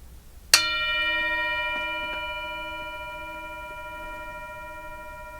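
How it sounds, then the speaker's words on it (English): A single bell is struck once, ringing out clearly and sustaining with a long, slowly fading shimmer in an otherwise quiet space. "I'm going to ring the bell. I'm going to ask you to listen carefully."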